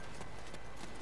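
A horse gallops with quick, steady clip-clopping hooves in the Attack on Titan: Wings of Freedom video game, loud and continuous over a noisy game soundscape.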